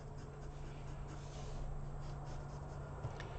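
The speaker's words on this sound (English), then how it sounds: "start the page with a vertical line down the center, keeping it kind of light so you can erase the lines later" A pencil scratches softly across paper, drawing a light vertical guideline in a continuous faint stroke, quiet and close against a steady low electrical hum.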